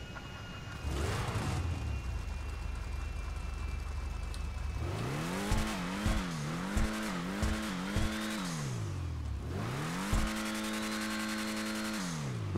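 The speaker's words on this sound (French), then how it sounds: "On entend bien le turbo, hein." A Karin Hotring Everon race car in GTA Online, customised with a turbo, revs and accelerates through repeated rising and falling engine sweeps with gear shifts. The engine is loud and close, with no talking.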